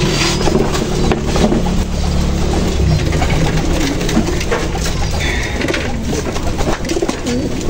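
Continuous soft cooing of pigeons or doves, layered over a loud steady background hum.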